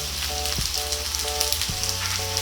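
Ginger frying in a pan as squash goes in, a steady close sizzle with soft stirring knocks and a faint musical tone in the background.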